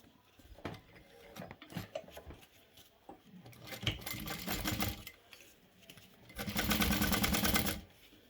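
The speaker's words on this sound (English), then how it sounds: "I'm going to adjust my stitch and sew at 1/4 inch" A home sewing machine stitching a zipper pocket at a quarter-inch seam, short mechanical bursts of stitching building to a sustained fast run near the end, close and fairly quiet, with no talk.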